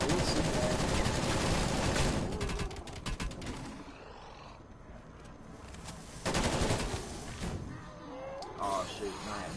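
Automatic gunfire in Black Ops Cold War Zombies, dense rapid bursts at moderate loudness that drop off midway and then return, with a voice talking over the action.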